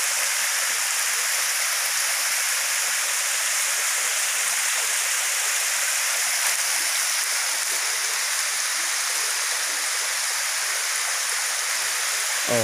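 Tobo Tobo Mini Falls in Altavista, Matalom, Leyte, Philippines, running with a gentle low water flow, makes a continuous close hiss and rush of falling water, steady throughout with no voices.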